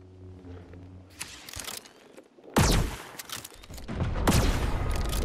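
A bomb-shooting gun fires in Lego Fortnite: sharp, loud blasts, the strongest about midway, followed by crackling bursts and a sustained roar of explosions, with no talking.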